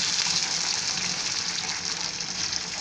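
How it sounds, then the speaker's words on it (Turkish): Water pours steadily into a pot while making rice pilaf, a soft continuous splashing gush heard close and alone. "su ilave edeceğim"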